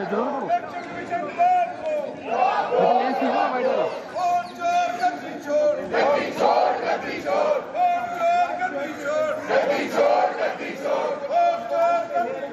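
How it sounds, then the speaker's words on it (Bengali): Opposition protesters chant slogans outside parliament in a vote-theft demonstration, a crowd shouting in rhythmic bursts, loud and close, for the whole stretch. "আজও সংসদের বাইরে বিক্ষোভ ভোট চুরির অভিযোগে বিরোধীদের স্লোগান"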